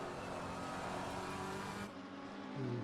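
Race car engines roar steadily in a sim racing game as a McLaren overtakes on the inside at Barcelona, a dense continuous engine drone that drops suddenly near the end, with no talking.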